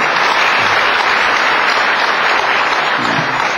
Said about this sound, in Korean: 여러분 스스로 우리 자신을 위해서 박수 한번 부탁드립니다